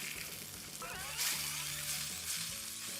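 Salmon sizzling and frying in a hot pan, a close, steady crackle with brief surges as the fish is moved or stirred, and no talk.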